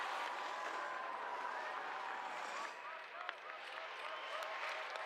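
Crowd noise at the bottom of a women's giant slalom course in Åre, Sweden, a broad steady roar with cheering and scattered claps throughout, dipping slightly midway, while a commentator talks over it.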